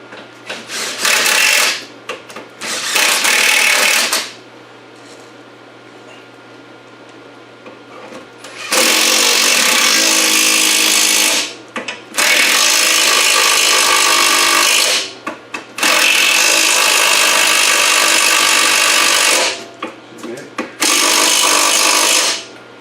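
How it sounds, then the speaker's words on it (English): Impact gun fitted with a 17 mm socket working on a Toyota Camry during control arm bushing replacement, several loud close bursts of rattling whir lasting a few seconds each, separated by quieter pauses. "Can I have the impact gun with the 17 mil, Steven?"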